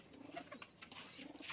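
A black-bellied Teddy pigeon coos softly up close, a short murmuring burst of low throaty notes, alone without talk.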